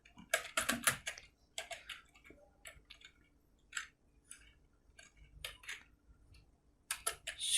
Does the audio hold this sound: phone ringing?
no